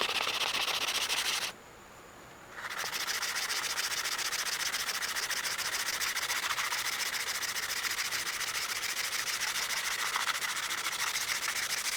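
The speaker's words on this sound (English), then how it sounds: "see a spot I want to hit with some straight up sandpaper" Steady hand sanding with fine sandpaper on the metal saddle of a South Bend 14.5 lathe, a continuous close scratchy rubbing that stops briefly, then resumes and carries on evenly without speech.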